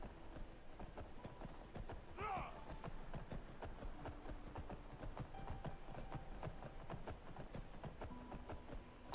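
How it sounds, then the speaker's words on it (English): A horse in the Skyrim video game gallops off with a rapid, steady clip-clop of hooves, fairly faint and continuous, while a voice talks over it. "His horsey ran away."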